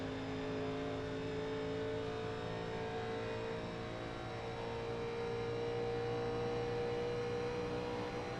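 A 1987 NASCAR stock car in iRacing at Michigan, its engine holding a steady, loud drone for the whole stretch, with no sharp change in pitch and no voices over it.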